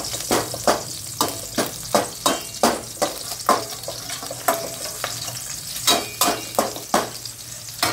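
Green chillies roast over a low flame in a pan with a soft sizzle, punctuated by a steady series of quick scraping stirs, close and fairly loud, repeating roughly every half second.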